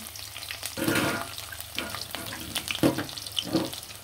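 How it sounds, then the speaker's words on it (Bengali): Chopped onion drops into hot oil for a basmati rice biryani, giving bursts of frying hiss and sizzle with a few stirring sounds in between. "তেলের মধ্যে দিয়ে দিলাম কুচি কুচি করা পেঁয়াজ"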